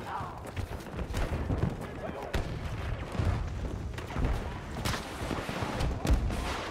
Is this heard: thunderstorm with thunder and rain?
no